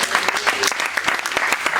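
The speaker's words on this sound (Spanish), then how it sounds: "Dale un aplauso al Señor." Church congregation applauding during a sermon, dense and lively clapping throughout the short burst.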